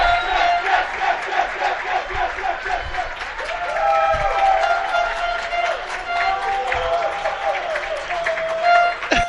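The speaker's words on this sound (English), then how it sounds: "A enthusiastic and somewhat loud Sacred Heart Griffin cheering section." Loud high school cheering section at a baseball game, a crowd chanting and yelling in rhythmic bursts with scattered claps, sustained and energetic across the whole stretch, with voices mixed in.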